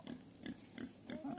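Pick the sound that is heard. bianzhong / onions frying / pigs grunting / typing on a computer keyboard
pigs grunting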